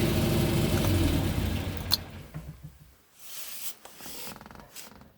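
A 1969 Porsche 912 engine idling with a low, steady rumble that fades after about two seconds, leaving near quiet with a few faint clicks and rustles.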